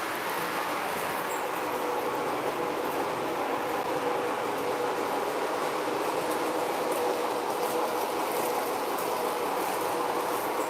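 Several D&H O-scale model train locomotives run together on a layout, giving a steady, continuous rolling rumble and faint clatter that stays even and fairly close throughout, with no talking.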